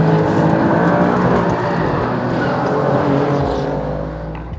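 An Alfa Romeo Stelvio Quadrifoglio's 2.9-litre twin-turbo V6 engine roars loudly and steadily, then eases off as the sound fades slightly near the end.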